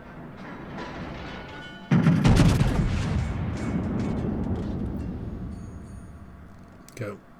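Main battery salvo from the Scharnhorst, a German tier 7 premium battleship in World of Warships: a loud sudden boom followed by a long rumbling roar that fades over several seconds, then a brief thump near the end, with speech around it.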